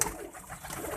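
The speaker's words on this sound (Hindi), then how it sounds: "ये कसूरी कबूतर है" A Kasuri pigeon gives a soft, low cooing, brief and moderately close, with faint background noise and no talking.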